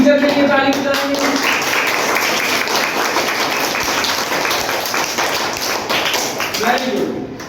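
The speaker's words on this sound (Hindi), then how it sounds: "और अपनी टीचर के लिए ताली बजाएंगे" Schoolchildren in a classroom clap for their teacher, rapid hand claps and tapping forming a loud, continuous patter, with voices audible at the start and again near the end.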